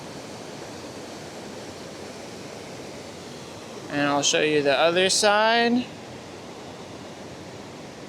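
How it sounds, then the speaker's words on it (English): A steady broadband rush of water from a waterfall on the Whirinaki Gorge trail fills the clip as a constant roar, with someone briefly talking over it midway. "I'm above the waterfall."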